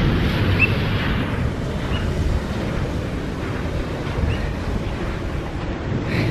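Water surges and washes in with a broad, steady rush, close by, mixed with wind buffeting the microphone.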